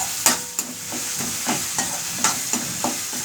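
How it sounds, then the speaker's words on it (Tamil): Grated raw mango sautés in oil with a soft sizzle, stirred in a steady rhythm of close scraping strokes about every third of a second. "மாங்காயில் இருக்கிற அந்த பச்சை வாடை போகிற அளவுக்கு நம்ம எண்ணெயில் நல்லா வதங்கிக்கணும்."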